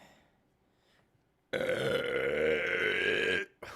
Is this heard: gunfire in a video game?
no